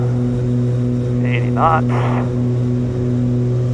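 Twin engines of an Aerostar 700 aircraft during the takeoff roll, a steady loud droning hum with a strong tonal buzz, heard under a man calling out airspeeds.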